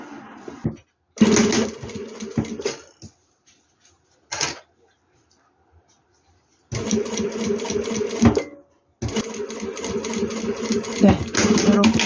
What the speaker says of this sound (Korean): 1cm 정도 앞에서부터 이렇게 제봉을 하겠습니다